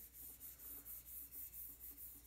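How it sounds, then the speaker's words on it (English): A cake of rosin is rubbed back and forth along a violin bow's hair. About eight soft, rhythmic scraping strokes sound close up and faint, with no talking. "Okay, so go ahead and take your rosin."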